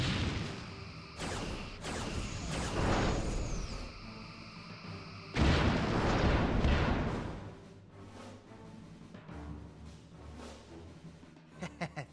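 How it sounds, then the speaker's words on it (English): Starship Geronimo blown apart by torpedoes in the Star Trek Bridge Commander space combat game: a rolling series of heavy booms and blasts, a lull, then a second loud explosion that decays into rumble, with a few sharp pops at the end. "The Geronimo has been destroyed."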